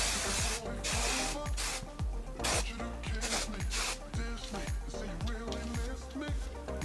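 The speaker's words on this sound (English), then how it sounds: "Now I'll just spray one last coating of hairspray." Short hissing bursts of aerosol spray repeat in quick succession over steady, bass-heavy background music.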